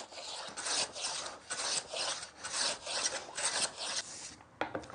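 An H&T Gordon hand plane takes shavings off wood with a hit-and-miss cut, a series of close, rasping strokes about every half second, each rising and fading, with a short gap before a last stroke.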